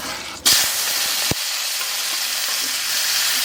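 Cumin seeds and chopped tomato hit hot mustard oil in a pan on low heat, bursting into a loud, steady, close sizzle with a couple of sharp pops as the pieces go in, and no talking.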